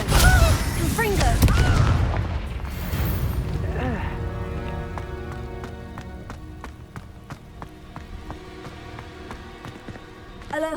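A Confringo blasting spell cast in Hogwarts Legacy: a loud opening burst with booming impacts and crackling, then a ringing, shimmering tonal tail that decays over several seconds, heard alongside game noise and a voice.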